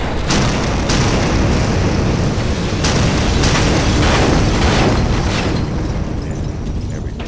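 Loud, rumbling blasts fill the whole stretch, a continuous roar broken by several sharp bursts early on.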